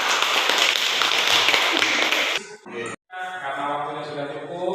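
Classroom applause from a group of students and teacher, a dense burst of clapping for about two seconds that stops abruptly, followed by voices talking.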